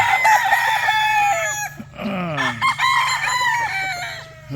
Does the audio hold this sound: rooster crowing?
yes